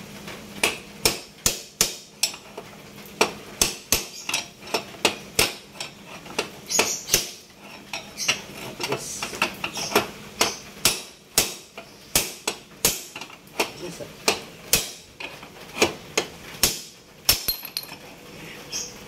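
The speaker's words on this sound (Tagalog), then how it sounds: "gagamit tayo nito sa martilyo" Repeated sharp hammer strikes, a steady series of loud metallic blows with brief pauses between them, close by.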